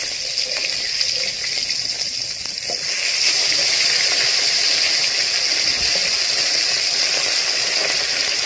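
Fish fries in hot oil after being turned over, a continuous bubbling sizzle that grows louder and denser partway through and then holds steady, close by and with no voices.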